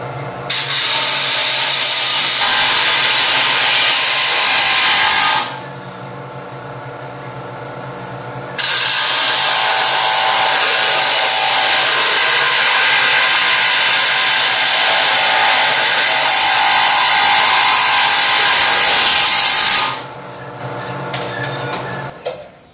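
A bandsaw cutting pieces of metal for a steering wheel, two long loud hissing cuts of steady tone separated by a quieter idling pause, close up and without speech.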